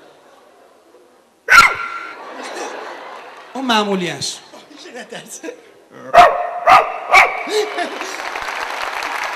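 A person imitates an ordinary dog barking with several sharp, close vocal barks and yips in bursts, some spaced and some in quick succession, with brief speech between them.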